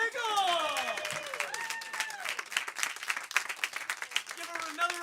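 A live improv comedy audience claps and cheers at the end of a show, the applause building beneath an announcer's voice that carries on over it.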